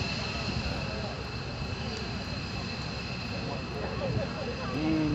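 An F-15E Strike Eagle jet slows during an air show demonstration, its engine roar loud and continuous throughout, with crowd noise and a public-address announcer's voice faint underneath.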